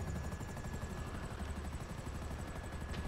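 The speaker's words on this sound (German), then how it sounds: "Das ist ein Heli." A helicopter in GTA V Online gives a steady, close rotor whir with a faint rhythmic chop, continuous for the whole stretch and not masked by any talk.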